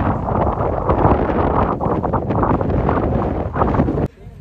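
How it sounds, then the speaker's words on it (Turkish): Steady, heavy wind buffets the microphone on a hilltop at a paragliding competition at Mercimek Hill, Turhal, in a continuous roar for about four seconds, then drops off abruptly near the end. "Rüzgar da güzel aslında."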